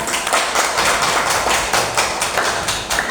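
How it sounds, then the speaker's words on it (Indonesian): Children clapping for a classmate in a religious education lesson, loud and close, with uneven claps and taps forming a rough rhythm that continues without speech. "tepuk tangan untuk Mas Tristan"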